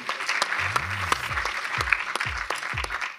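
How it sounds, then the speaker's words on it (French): Audience applause at an advertisers' awards ceremony for 2024, a sustained patter of clapping with a presenter's voice speaking over it. "Bravo à tous les deux, on vous applaudit bien fort."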